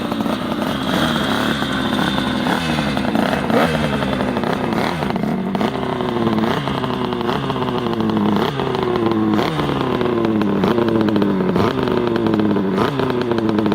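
Motorcycle engine revved hard again and again, each blip rising and falling in a rapid sawtooth rhythm, loud and close with mechanical clatter underneath and no talking.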